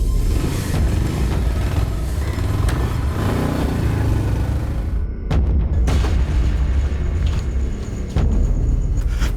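Booming gunshot-like blasts land amid a dense, rumbling background, with sharp impacts around the middle and later in the stretch, loud and close, and no one speaking.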